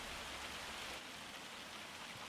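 Rain falling in the Farming Simulator 25 game, a steady dense hiss of drops on surfaces, fairly quiet and even throughout with no voices.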